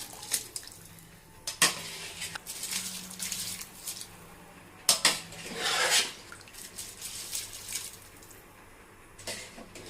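Rice being stirred in a pot while cooking chicken dum biryani, a spoon scraping and clinking against the metal in several short bursts with quieter gaps between, close by.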